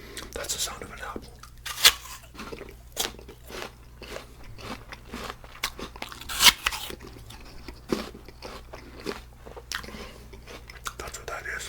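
A crunchy apple is bitten and chewed close to the microphone, with crisp crunches and wet chewing in an uneven rhythm under soft whispering.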